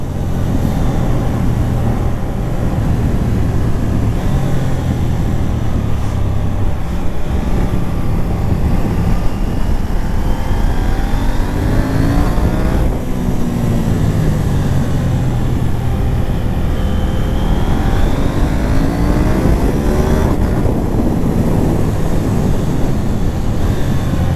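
A KTM 890R Duke motorcycle being ridden with a quick shifter, its engine droning loudly under heavy wind noise, revs rising and falling as gears change.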